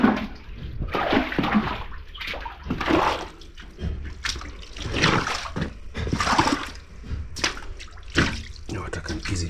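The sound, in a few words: water flowing through unfinished house room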